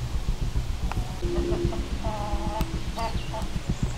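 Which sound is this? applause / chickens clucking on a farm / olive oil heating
chickens clucking on a farm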